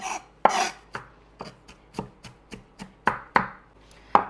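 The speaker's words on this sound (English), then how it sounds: "But I'm still chopping it up very fine." A knife finely chopping onions on a cutting board, about a dozen crisp close chops in a fairly even rhythm, with no talk.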